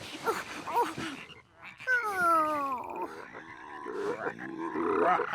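Cartoon frog croaks, drawn-out wavering groaning calls mixed with other animated vocal sounds and a narrator speaking.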